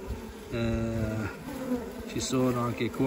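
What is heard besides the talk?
honeybees active at a beehive in cold weather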